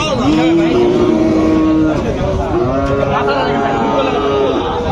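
A solid black Friesian cross bull lets out long, drawn-out moos at close range, its low calls rising and falling over several seconds while people talk nearby.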